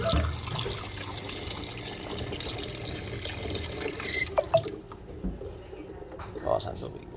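Water runs from a tap into a sink in a home kitchen, a steady splashing rush that stops partway through, followed by a few drips and clinks while people talk.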